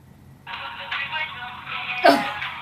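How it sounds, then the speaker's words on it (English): A phone callback ringtone plays as a steady, bright electronic tone through a handset. It starts after a short quiet moment and continues at moderate loudness, with a brief louder blip near the end. "She's got the callback ringtone."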